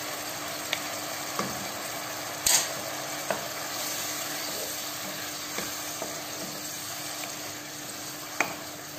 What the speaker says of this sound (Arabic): نخلي هكا اللحم يتقلى مليح مع التوابل